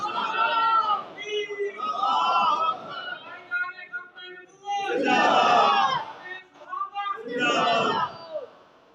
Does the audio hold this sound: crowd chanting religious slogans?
yes